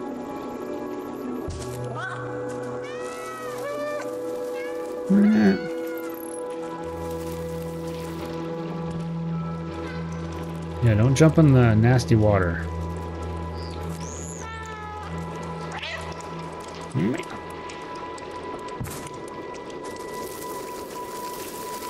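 Several cats meow in the game Stray, with short rising and falling calls scattered among steady tonal game sounds and music, including a louder cluster of meows partway through, while a person talks intermittently over it.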